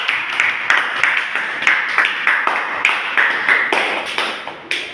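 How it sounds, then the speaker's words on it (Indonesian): A class claps hands in a teacher-led lesson, sharp irregular claps repeating steadily throughout, close and fairly loud with no talking over them. "Tepuk tangan dulu untuk kita semua"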